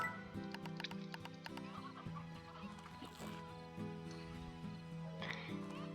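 Chickens cluck in the video game Slime Rancher, their repeated clucks and short squawks sitting over steady, looping game music, with a brief burst of louder fowl calls near the end.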